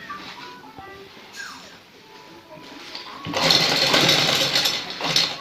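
Sewing machine stitching a cutwork design onto a kameez, starting up after a quiet stretch of faint handling sounds and running loudly and steadily for the last couple of seconds.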